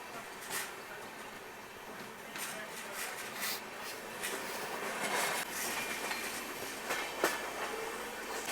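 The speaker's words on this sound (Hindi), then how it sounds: "सो फाइनली निकल चुके हैं मोड रेलवे स्टेशन से।" Patalkot Express train pulling out of Mour railway station, a steady rumbling roll of railcars with clattering wheels and a few sharp squeals and knocks, heard close from on board, with faint voices in the background.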